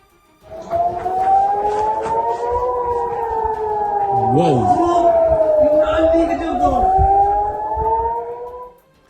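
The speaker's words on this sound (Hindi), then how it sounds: "वहां के एक इलाके में हमले से पहले तेज आवाज में सायरन बजे" A loud wailing air raid siren rises and falls in long sweeping tones in Israel, sustained for several seconds with a fainter second siren layered underneath.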